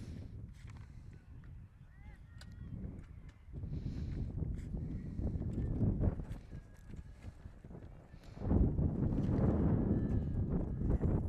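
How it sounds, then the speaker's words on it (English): Strong wind buffets the microphone at an outdoor softball game, a low rumbling roar that swells in gusts and grows heavier toward the end, with people talking underneath. "Wind still going strong here late in this contest."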